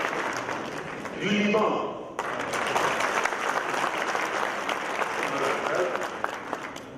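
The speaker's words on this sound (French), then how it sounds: "que je vous demande d'acclamer." An audience at a notaries congress in Oran, Algeria bursts into steady, loud applause that fills the room throughout, with a speaker's voice briefly heard over the clapping.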